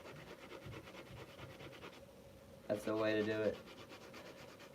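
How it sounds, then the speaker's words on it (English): Quiet, rapid rubbing strokes of sanding on a small toy minifigure, repeating steadily, followed by a brief spoken remark. "We're almost done sanding."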